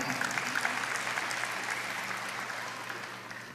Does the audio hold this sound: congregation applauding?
yes